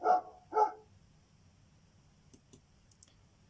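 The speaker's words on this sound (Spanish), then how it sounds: "El primer sonido, como pudimos escuchar, es de un perro" A dog barks twice in quick succession, fairly close and clear against a quiet background, followed by a few faint clicks.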